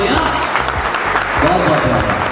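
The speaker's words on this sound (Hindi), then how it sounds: "तो और तालियां" Audience at a 2020 sports felicitation ceremony in Jamui claps steadily and densely throughout, a sustained round of applause with a voice heard over it.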